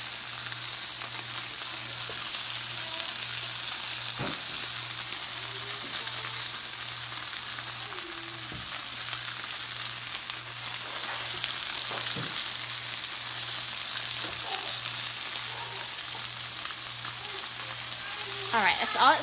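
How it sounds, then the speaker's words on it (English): Steady, crackling sizzle of steak on a hot grill, fairly quiet and continuous, with a few faint clicks and knocks. "You can hear that nice sizzle going."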